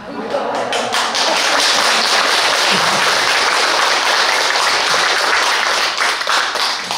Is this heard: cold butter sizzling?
no